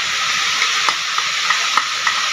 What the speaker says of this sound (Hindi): 2 चम्मच अदरक लहसुन का पेस्ट 2 तो 3 मिनट ये भुनांगे।